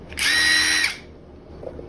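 A small cordless impact driver revs in one short high-pitched whine of under a second, close and loud, then cuts off into quiet room tone.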